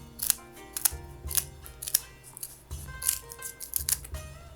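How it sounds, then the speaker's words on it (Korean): Scissors snip crisply through bones of a large fish such as amberjack, making a run of sharp, close clicks and crunches at an uneven rhythm, with no talk. "뼈는 가위로 잘라서 정리해줍니다."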